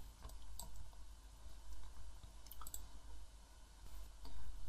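Sharp, sparse clicks of a computer mouse used while selecting and moving shapes in Adobe Illustrator, quiet and close, scattered irregularly over a low steady hum.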